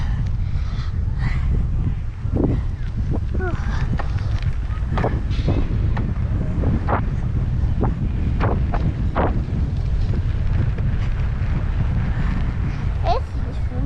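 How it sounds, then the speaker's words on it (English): Strong wind blowing during a bike ride, a constant heavy rumble buffeting the microphone throughout, with scattered short knocks and brief voice sounds over it. "This is very windy."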